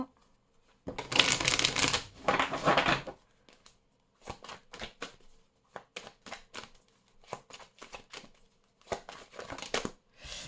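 Oracle cards are shuffled in several separate bursts of crisp, papery riffling and flicking. Some bursts are long, others are quick, with quiet pauses between them, recorded close up.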